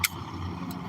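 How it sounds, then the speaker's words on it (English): A turbo diesel truck engine runs steadily nearby, a low continuous rumble with a couple of brief high hissy bursts on top. "this is my turbo diesel. It's so loud you'll never hear it."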